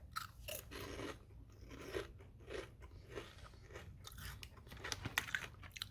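Crisp, close crunches and chewing of SeaSnax Chomperz original seaweed chips repeat in an irregular rhythm over about six seconds, with no talking.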